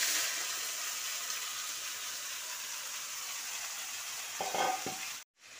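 Soybean chunks and spices tipped into a hot pan with cumin, frying in a steady loud sizzle throughout, with a brief clatter near the end before a short cut.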